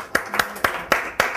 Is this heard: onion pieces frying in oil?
no